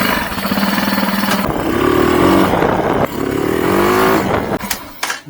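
A Chinese CG motorcycle engine, freshly fitted with a Nibbi PWK carburetor, runs loud and close with a steady, slightly uneven idle and a couple of rising revs before cutting off near the end.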